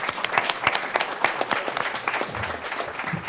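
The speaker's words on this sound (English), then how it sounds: "And you can applaud." Audience applause at a college election panel, a full, even roar of many hands clapping at once, held steady across a few seconds with no talk on top.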